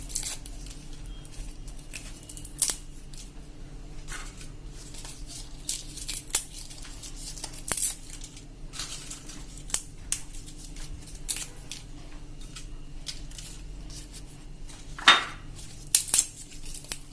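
Bay leaves being torn and snipped into pieces for a clay pot: scattered dry crackling snips and rustles at irregular intervals, close and soft, with one sharper crinkle near the end.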